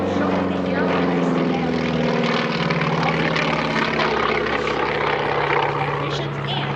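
A North American T-28 Trojan propeller warbird drones loudly and steadily overhead at an airshow, its engine tone holding a constant low hum throughout.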